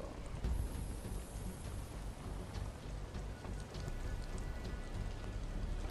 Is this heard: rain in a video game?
yes